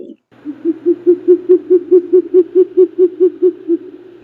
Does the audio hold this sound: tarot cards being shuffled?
no